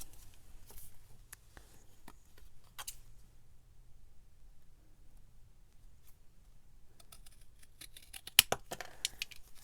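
Scissors snipping paper for a junk journal window pocket, a few quiet close cuts early on, a pause, then a denser burst of crisp snips near the end.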